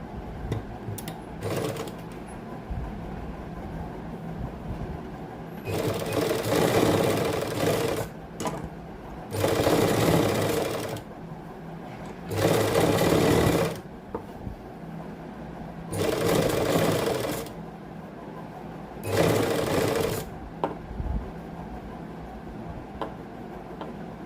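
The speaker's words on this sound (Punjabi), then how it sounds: "ਅਰੇ ਪੱਟੀ ਦੇ ਉੱਪਰ ਸਲਾਈ ਲਾਉਣੀ ਆਪਾਂ ਇਸ ਕੱਪੜੇ ਤੇ ਸਲਾਈ ਨਹੀਂ ਲਾਉਣੀ ਅਰੇ ਪੱਟੀ ਤੇ ਲਾਵਾਂਗੇ" A sewing machine stitches along a fabric strip while finishing a back neckline, in several separate bursts of rapid mechanical whirring, each a couple of seconds long, with quiet pauses between runs.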